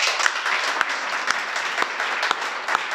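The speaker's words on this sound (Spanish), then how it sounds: "Un aplauso, pues." A church congregation bursts into sustained applause, dense hand clapping filling the room at a steady loud level throughout, with a few sharper individual claps standing out.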